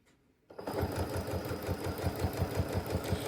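A sewing machine chain-pieces rag quilt fabric, starting after a brief quiet moment and then running steadily with a fast, even stitching rhythm, close and fairly loud with no talking.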